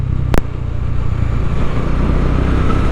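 Motorcycle cruising slowly at around 30-40 km/h along a crowded village road, a steady low engine drone with road and wind rumble running throughout, one brief sharp burst near the start.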